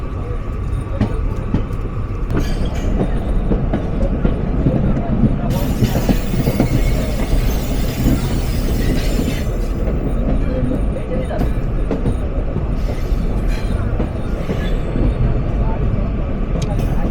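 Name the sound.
66 series diesel locomotive coming out of Ishwardi loco shed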